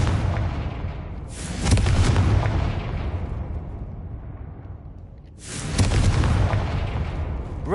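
Two loud blasts from the Confringo blasting spell in Hogwarts Legacy, each a sudden bright crack swelling into a long rumbling roar that fades over a few seconds, the pair spaced about four seconds apart.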